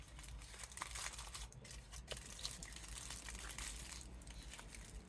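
Aluminium foil being scrunched and wrapped around a clay bird body, a faint continuous crinkling and crumpling with small sharper crackles, heard alone without any talk.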